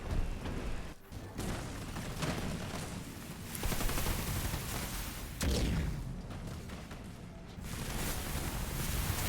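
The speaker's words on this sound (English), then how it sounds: "Jackrabbit under vehicle fire" Sustained vehicle gunfire and explosions pound a base during a Halo Wars 2 battle, a dense continuous barrage with a few louder booms, steady and moderately loud throughout with no voices.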